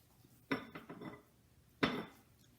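Ground turkey meatloaf mixture being worked in a large bowl, two sharp knocks against the bowl with softer squelching and scraping between them, fairly close and quiet.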